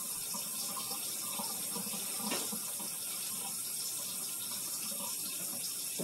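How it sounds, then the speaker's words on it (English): Tap water running steadily over canned potatoes in a kitchen sink, a continuous even splashing hiss, close and moderate, with no talking. "I'm going to let the water run over the potatoes for about a minute or two."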